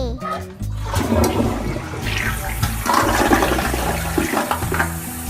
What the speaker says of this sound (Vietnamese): Xả nước thôi.